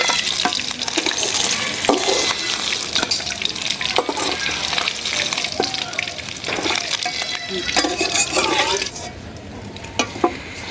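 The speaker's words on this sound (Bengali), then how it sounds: "মাছগুলো ভাজা হয়ে গেছে উঠাই" Fish frying in hot oil gives a loud, steady hiss close by, broken by scrapes and clatter as pieces are turned and lifted out. The hiss eases slightly near the end.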